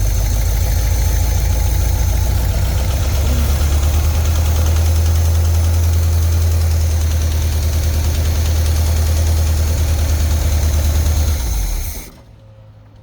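A Jeep engine idles loud and close with a steady low rumble and faint knocking texture, then shuts off abruptly into silence near the end.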